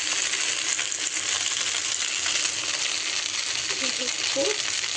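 Chicken frying with ginger-garlic paste in a pan gives off a steady, bright sizzling hiss that holds throughout, close and fairly loud, with a brief voice near the end.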